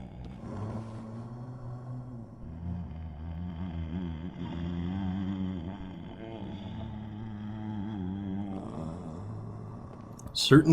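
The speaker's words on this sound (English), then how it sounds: "leading us back to the sound of a slumbering something" A slumbering creature snoring in Dark Souls 3, a low, steady rumbling snore with slow rhythmic breaths under a voice talking.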